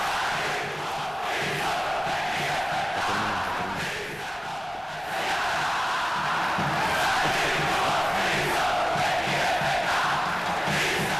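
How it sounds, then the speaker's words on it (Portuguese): Ceará football supporters roar and chant together after a match, a thick, continuous crowd din with rising and falling cheers and no single voice standing out. "Olha a torcida do Ceará depois do jogo desta terça."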